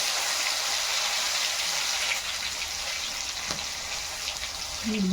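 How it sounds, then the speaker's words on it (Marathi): Stuffed okra (bhindi) dropped into hot oil, giving a steady, fairly loud sizzling hiss that continues evenly throughout with brief faint bubbling pops. "ही भेंडी आपण भरलेली आहे ते तेलात टाकायचे"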